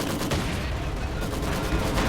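Battle noise from Company of Heroes 2 with a Soviet force facing Wehrmacht OKW heavy armor: dense, continuous rattling gunfire, steady and loud throughout with bursts overlapping, suggesting machine gun fire in the mix.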